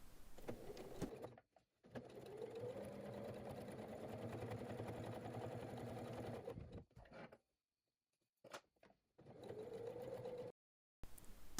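A sewing machine stitching fabric pieces together for a bag, a steady mechanical whir running in several bursts with short pauses between them, close and fairly quiet.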